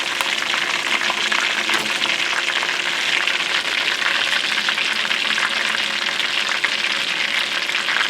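Southern-style chicken pan-frying in hot oil, a loud, steady crackling sizzle that holds evenly from start to finish with no voices.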